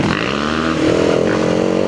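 Yamaha WR450F dirt bike engine on a woodland trail, a loud close buzzing drone that climbs slightly in pitch and holds steady throughout.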